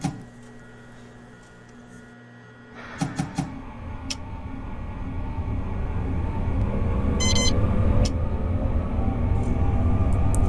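Korean subway train departing a station, opening with faint beeps and a brief chime, then a steadily building low motor rumble and wheel noise as the train gathers speed, with a short electronic tone midway.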